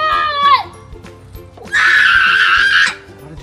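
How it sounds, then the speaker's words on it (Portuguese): A child screams at a mother's birthday gathering: first a short shrill cry that slides downward, then after a brief pause a louder, sustained piercing scream lasting over a second, very close and loud. "Para de gritar, você vai acordar as pessoas."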